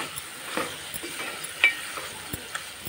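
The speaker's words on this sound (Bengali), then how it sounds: "তো সেটা একটু মিক্স করে নিচ্ছি মশলার সাথে।" Dried fish being stirred with spices in a pan, giving soft scraping strokes and a light sizzle at low, close level with no talk.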